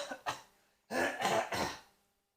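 A person coughs and clears their throat, two short rough bursts followed by a heavier run of three hacking coughs, close and fairly quiet with no talk.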